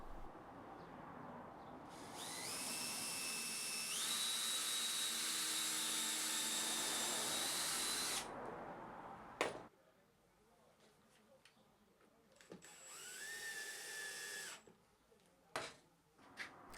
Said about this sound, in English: drill and countersink some holes,